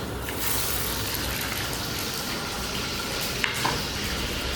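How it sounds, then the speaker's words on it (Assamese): Food frying in hot oil gives a loud, continuous sizzling hiss that stays steady throughout, with a couple of faint clinks near the end and no talking. "এইটো তেল গৰম হৈ আছে, ইয়াতে দি দিম।"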